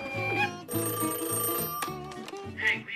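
A telephone rings repeatedly in indoor film dialogue, with bright metallic trilling bursts separated by short gaps and a brief voice-like sound near the end.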